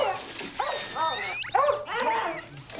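A dog squeaks and whimpers in a film scene, a string of high, wavering squeals and yelps in quick succession, fairly close and fairly quiet.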